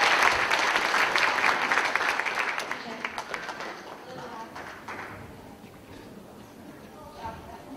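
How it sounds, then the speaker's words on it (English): Audience applause at a youth choir festival after a seventh-grade soloist's song, a full burst of clapping at first that thins and fades over several seconds into scattered claps and quiet room noise. "So give her a big round of applause."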